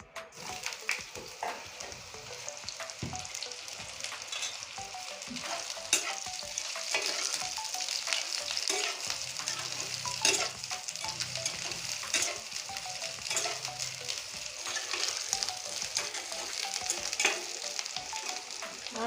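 Ridge gourd cooks in a pan for a poppy seed dish, with a continuous crackling sizzle and scattered scraping stirs running steadily at moderate loudness.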